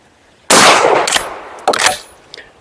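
A Silver Eagle XP-15 shotgun fires with a loud, sharp blast up close, then its action cycles with quick metallic clacks; a second short mechanical burst follows.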